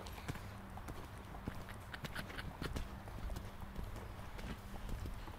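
A horse's hooves beat in a steady, faint, rhythmic clip-clop while the horse performs a change of lead under a rider in a training session.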